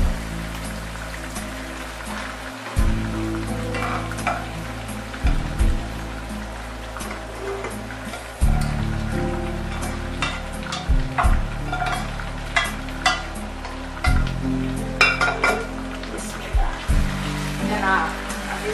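Onions fry in oil in a kadhai while someone talks over the steady sizzle, with frequent crackles and the occasional scrape of stirring throughout.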